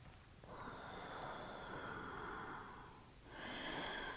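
A yoga teacher's deep, slow breathing during an Ashtanga class, two long, steady breaths close to the microphone, each a broad airy rush with a short pause between.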